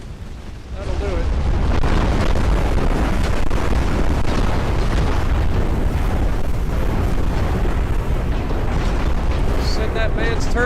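A warship blows up in Ultimate Admiral Dreadnoughts, its turrets torn off: a loud, sustained roaring explosion that swells after a brief lull and rumbles on amid battle noise.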